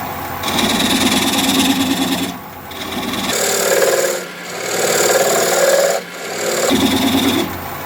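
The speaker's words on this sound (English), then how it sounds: "Now I'm going to switch to a swept back bowl gouge so that I can get in there closer." Olive wood bowl spinning on a lathe and cut with a swept-back bowl gouge, giving a loud steady rasping, scraping drone in several sustained passes broken by short pauses.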